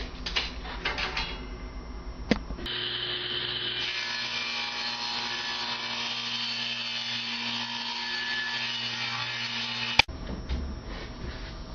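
A table saw blade set a quarter inch high whirs steadily for about seven seconds as it cuts through wood, loud and close, with brief knocks before and after.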